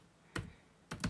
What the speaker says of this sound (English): So if you just type in here masternode